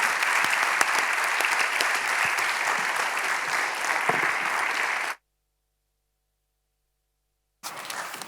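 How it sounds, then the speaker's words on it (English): Audience at a capital markets conference applauds panel speakers with steady, dense clapping for about five seconds, then a sudden cut to silence before the applause briefly resumes at the end. "Bit of applause for the colleagues here."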